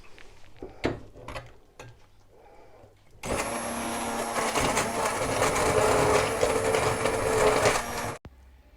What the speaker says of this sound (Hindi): ब्लेंड कर लेंगे हैंड ब्लेंडर के साथ